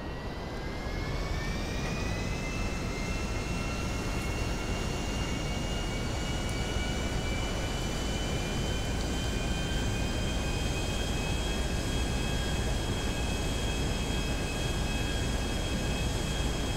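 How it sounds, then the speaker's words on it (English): A jet flies in Grand Theft Auto 5, its engine a loud, steady roar with a high whine that rises briefly at the start and then holds evenly throughout, with no talking. "Let's try and fly the jet without killing ourselves."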